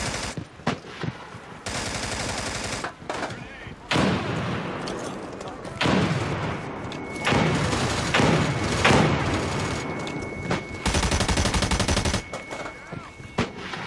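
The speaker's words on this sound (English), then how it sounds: "You're shooting me on the back." Gunfire in the military shooter game America's Army: Proving Grounds during an online match with M1911A1 pistols, loud sharp shots and rapid bursts going off repeatedly, some very close, with players talking over the firing.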